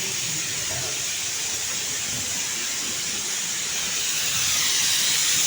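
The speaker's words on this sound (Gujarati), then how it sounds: "કુકરમાં શાક બની રહ્યું છે," Steady, loud hiss of a pressure cooker venting steam while vegetables cook in a home kitchen. It runs continuously through the whole stretch, with no talk.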